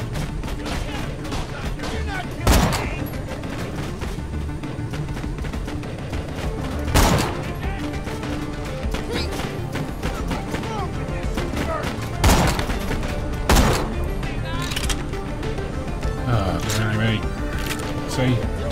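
Sniper rifle shots ring out in Borderlands: The Pre-Sequel, about five sharp loud cracks spaced several seconds apart over a constant bed of game noise, with a person talking throughout.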